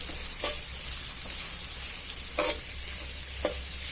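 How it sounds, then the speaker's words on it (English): Onions frying in a pan until golden, a constant crackling sizzle broken by a few sharp scrapes of stirring. "I will start frying till it gets a nice golden color"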